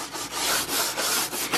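A flexible cleaning brush scrubs a dirty door with a fabric softener solution, making loud, close, continuous rubbing strokes that swell and dip in a steady back-and-forth rhythm.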